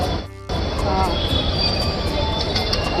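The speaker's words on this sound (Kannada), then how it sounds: "railway station" Busy ambience at Yeshwantpur railway station in Bengaluru during light rain: train rumble and screeching wheels, a brief tonal hum near the start, and scattered voices in the background.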